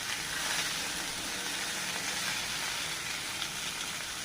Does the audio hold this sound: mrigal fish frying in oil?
yes